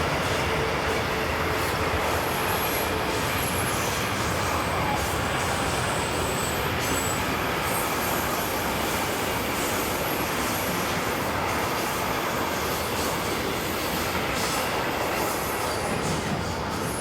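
LKW Walter Volta freight shuttle from Novara to Genk on the BLS route between Thun and Kandersteg in Switzerland, hauled by locomotives 11679 and 11272, rumbles past in a continuous loud roar with wheel squeal and rhythmic clatter throughout.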